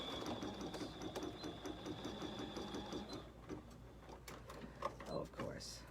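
A BERNINA sewing machine stitches garden flags in a steady rapid mechanical whirr with rhythmic needle clatter, close, with a faint hum from the machine continuing underneath and a few clicks near the end.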